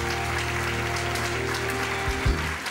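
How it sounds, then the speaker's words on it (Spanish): Applause for honoured figures of local football at a historical convention in Águilas, a steady broad wash of clapping throughout with a few louder bursts near the end. "Otro aplauso para ellos"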